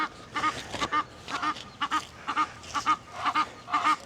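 Egyptian ducks quacking loudly and repeatedly at close range, a rapid run of harsh nasal calls that overlap and continue without a break.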